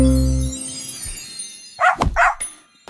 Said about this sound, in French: Elle a couru après sa queue et a finalement aboyé.